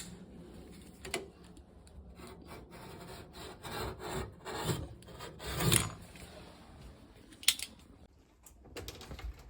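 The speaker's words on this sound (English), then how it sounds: "So just get my knife and cut the silicone out." A knife scrapes and saws through silicone sealant holding a Worcester 2000 gas boiler to a wall, giving close, irregular rasping and rubbing strokes with a few sharper clicks, quiet and without talk.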